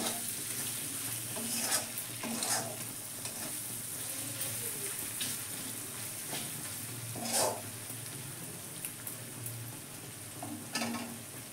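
Chili powder, Kashmiri chili powder and turmeric fry in a pan with a constant soft sizzle, broken by occasional scrapes and taps of a stirring spoon, for dim posto.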